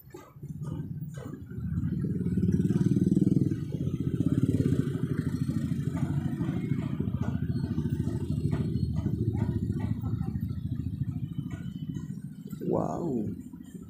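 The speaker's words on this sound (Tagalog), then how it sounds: "Grabe yung dikdikan ng mga sasakyan dito." Congested road traffic of cars and motorcycles on a muddy, rainy street in North Caloocan, with a nearby motorcycle engine droning steadily, other vehicles clattering past, and a brief horn-like tone near the end.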